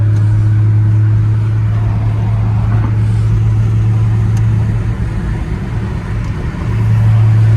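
An Aston Martin sports car engine idles with a deep, steady rumble at a car meet, close and loud, with a slight swell in intensity toward the end.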